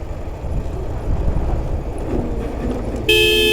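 Road traffic heard from a motorcycle on a mountain tour ride, with engine and road rumble throughout, then a loud bus-like vehicle horn blasting near the end.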